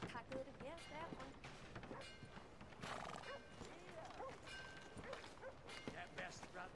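A horse in the Red Dead Redemption 2 video game whinnies while its hooves clip-clop steadily, with game voices talking over the hoofbeats and music throughout.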